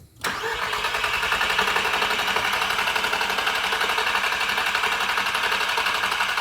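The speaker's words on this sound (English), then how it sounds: "Crank engine." A long-stored Audi TT or Mini Cooper S, left sitting for 20 years, is cranked over after a sharp click: the starter churns in a fast, even rhythm, loud and close, with no voices.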